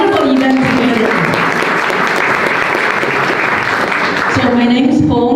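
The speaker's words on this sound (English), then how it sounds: "let's give a round of applause to all the organizers for putting such a wonderful event together" Audience applause for the organizers at a community gathering, loud and steady throughout, with a voice speaking over the clapping near the start and again at the end.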